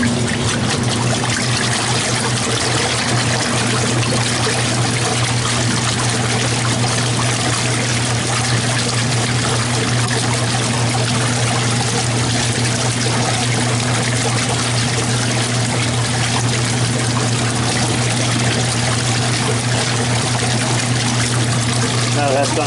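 Water pours steadily into washing machines filling at an outdoor laundromat, a loud continuous trickling rush with a low hum from the machines, with no pauses throughout.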